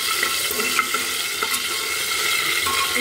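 Cardamom pods frying in hot oil inside a pressure cooker while cooking achari beef: a steady, close hiss of sizzling with faint stirring scrapes throughout, no voices.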